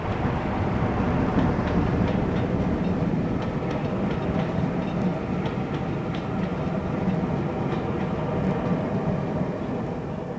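A Class 47 locomotive hauls the 1425 Swansea to London mail train past at close range, its heavy engine rumble and steady wheel noise filling the whole stretch at an even, loud level.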